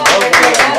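Audience clapping at a live Hindi comedy poetry show, a short burst of dense applause with rhythmic peaks, close and loud over a brief moment.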